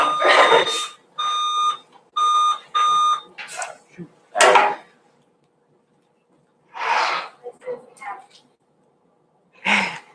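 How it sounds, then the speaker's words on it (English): Quiz buzzers at a high school academic meet being tested, several short electronic tones sounding in quick succession, interrupted by voices and the room's noise. "Test your buzzer out."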